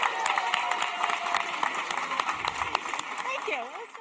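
Applause from the audience for the candidates in the room at an NDP leadership forum, steady clapping throughout with a voice talking over it.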